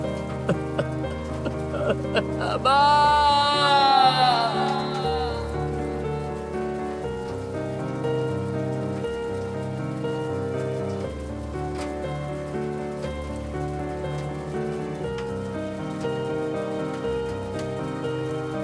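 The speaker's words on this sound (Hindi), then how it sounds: "दादी, बारिश में क्यों भीग रही हो?" Steady rain falls continuously, with a thin patter heard under a dramatic music score that swells near the start and then carries on throughout.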